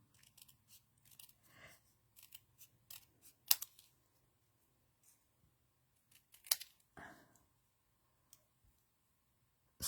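Scissors snipping through paper during a stamping and colouring craft session, a sparse series of crisp close clicks and snips separated by near silence.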